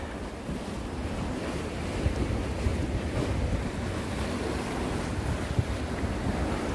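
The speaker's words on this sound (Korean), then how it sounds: "파도는 아주 잔잔한 편입니다" Calm sea waves at Baekdo harbour in Korea wash steadily against the shore, a constant broadband surge mixed with wind buffeting the microphone, with no one speaking.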